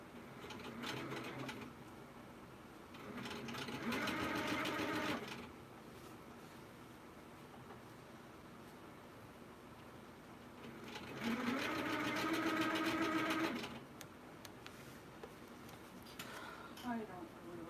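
A sewing machine stitches in two bursts of steady whirring, close and moderately loud, with casual voices talking between and over the runs.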